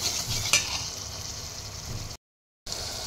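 Onion, tomato and prawn curry being stirred in a pan, a close, steady sizzle with a brief scrape of the utensil near the start, then a short gap of silence before the sizzling resumes.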